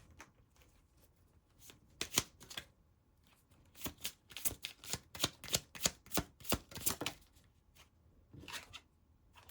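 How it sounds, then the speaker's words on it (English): Oracle cards being shuffled by hand, close and quiet, in short riffling bursts: a couple of brisk flutters, then a longer run of rapid, evenly paced card slaps, and a final brief shuffle. "pull more oracle cards."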